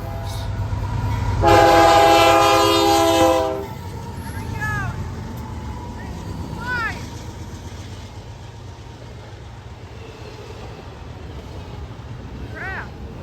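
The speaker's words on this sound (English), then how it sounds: "This is the last train, a BNSF-Z train, flying fast." A fast BNSF Z freight train rushes by, its horn blaring loudly for about two seconds before the rumble and clatter of rail cars continue, with squealing wheel sounds and faint voices at a railside spot in Palmetto, Georgia.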